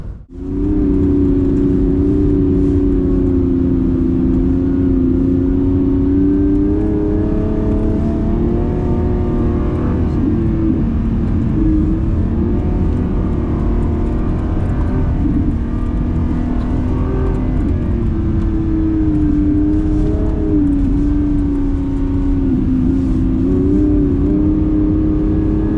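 A Lamborghini engine revs hard and steadily while being driven on an ice track at a snow-driving event, with a loud, continuous close-up roar that swells and dips slightly with the throttle.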